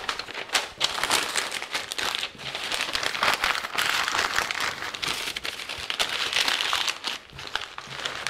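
Butcher paper crinkles and rustles steadily as it is folded around pulled pork, a close, continuous papery crackle with brief pauses.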